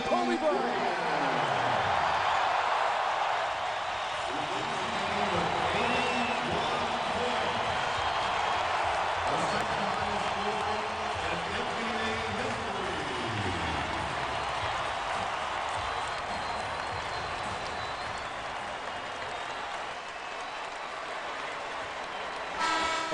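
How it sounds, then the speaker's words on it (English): A packed arena crowd at a basketball game roars and applauds for Kobe Bryant, a broad sustained wash of cheering that fills the space, with an announcer talking over it. "listen to this crowd for number 8, Kobe Bryant"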